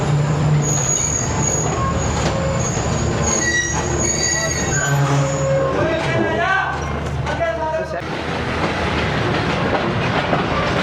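Tezgam passenger train pulling out of Gujrat railway station, loud wheels squealing in shrill, wavering tones over a rumbling clatter, with people talking nearby.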